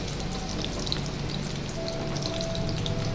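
Chilli chicken pieces frying in hot oil give a steady, close crackling sizzle with fine popping spatter, continuous and alone for the whole stretch.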